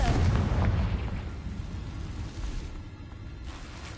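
In Hogwarts Legacy, a Confringo spell detonates in a deep, loud explosion that starts hard and rolls on as a long, fading rumble, close by and without any voices.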